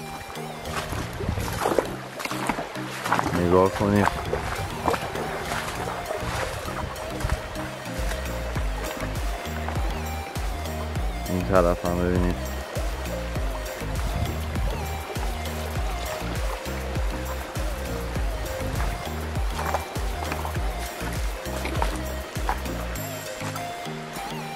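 A river flowing beside a campsite near Aghasht village in Karaj, with a steady rushing stream of water running throughout, while people talk over it now and then.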